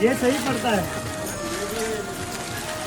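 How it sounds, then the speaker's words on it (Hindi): Steady rain hisses across the Vaishno Devi pilgrimage route from Katra to Bhawan, a dense continuous wash running the whole time beneath a voice talking. "माता रानी जी की यात्रा में अभी भी बारिश कम नहीं हुई"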